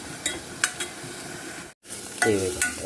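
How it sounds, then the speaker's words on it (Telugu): Onion and tomato fry together in a pan with a steady close sizzle, broken by a few scraping stirs and a brief gap, with no talking. "రెండు కలిపేసి కొంచెం సేపు వేగాలి అంటే టమాటా కూడా పచ్చివాసన పోయేంత వరకు వేగాలి"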